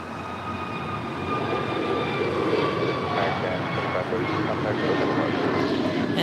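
American Airlines A321neo jet at LAX, a steady engine roar with faint whining tones that swells slightly, under talk.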